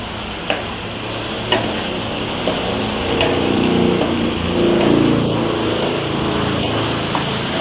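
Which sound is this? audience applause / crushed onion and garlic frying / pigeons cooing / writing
crushed onion and garlic frying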